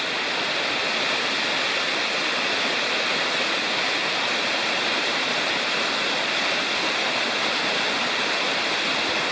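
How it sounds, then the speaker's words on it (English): Margarette Falls in Cherokee National Forest pours steadily, a dense, close roar of falling water that holds evenly for the whole stretch with no voices. "Margarite Falls."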